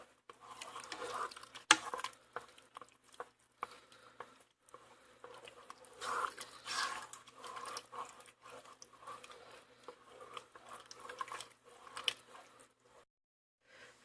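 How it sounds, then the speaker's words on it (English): Cheese being stirred into macaroni inside a Crockpot Express multi cooker: quiet, sticky squelching and soft scraping in irregular bursts, close and faint, with short pauses between strokes. "So there's the cheese. I'm just going to mix this around."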